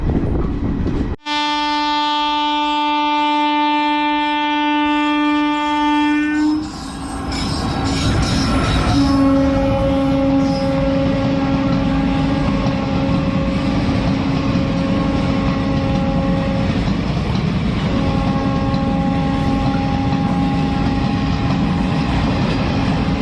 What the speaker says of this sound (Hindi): ये यही ट्रेन है जिसमें मैं जर्नी कर रहा हूँ।